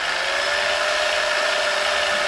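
A Harbor Freight band saw mounted on its dual stand runs with no load, a steady high whine and hum held at constant level for the whole stretch, close by.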